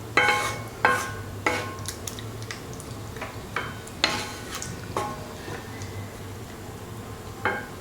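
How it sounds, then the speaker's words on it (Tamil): Spoon scraping and clinking against a pot while stirring prawn curry in coconut milk gravy, a series of sharp, moderately close strikes every half second or so over a low steady hum. "இப்போ இதை நல்லா கிண்டிடுங்க"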